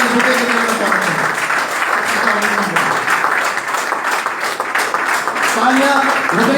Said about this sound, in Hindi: हमारे double crown diamond mister Bharatgarh जी का जोरदार तालियों से स्वागत करते हैं।